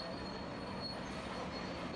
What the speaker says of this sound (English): a freight train several miles long passed through the work site.